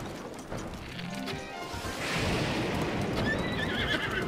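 Horse in The Legend of Zelda: Breath of the Wild whinnying with a high, wavering neigh, then hoofbeats clattering amid crashing impact noise, loud and close, ending in a bright shimmering game effect.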